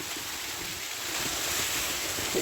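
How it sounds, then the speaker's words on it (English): Water spilling out of a reservoir over a stone weir on the far side of a lake in North Wales, a steady broadband rush that holds constant and swells slightly louder midway, with wind buffeting the microphone. "Now on the far side of the lake, we come to where all the water leaves. Another weir."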